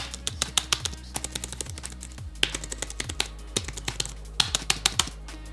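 Keys clatter on a Logitech MX Keys Mini keyboard in quick bursts of typing, light and close, with short pauses between the runs of clicks.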